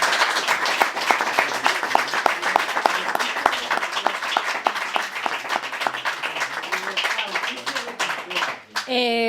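An audience applauds in sustained, dense clapping that runs for several seconds at moderate loudness before a voice breaks in at the end.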